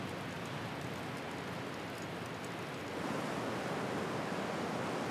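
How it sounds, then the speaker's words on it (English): Strong wind roaring over waves on a sea coast, a dense constant rush of noise with breaking surf, growing slightly louder partway through, no voices. "Oh, the wind is so strong, it's really whipping up the waves here."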